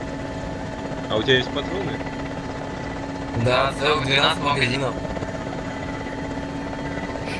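Helicopter in the ArmA 2 military video game drones steadily with a constant buzzing rotor and engine hum throughout, while players talk over it.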